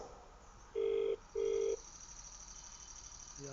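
A phone ringback on a call sounds two even electronic tones with a short gap between them, heard close over faint background hiss, and a brief lower tone follows at the end.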